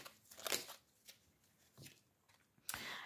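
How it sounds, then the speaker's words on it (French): Oracle cards shuffled and drawn by hand, a few soft riffling and sliding bursts with quiet gaps between, faint and close, with no talk. "je vais prendre quelques cartes du petit oracle des âmes amoureuses"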